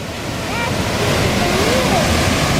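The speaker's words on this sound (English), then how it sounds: "we made it to our first waterfall. And the water comes down and it's carved out a tunnel underneath the snow here" A mountain waterfall pours down and runs through a tunnel it has carved beneath snow about 15 feet thick, giving a steady, close, full rushing roar that holds without a break.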